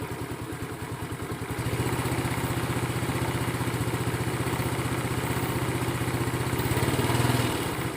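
A motorcycle engine running steadily, then revved up around two seconds in, holding a raised, even throbbing pulse with a slight surge near the end; close and continuous with no talk.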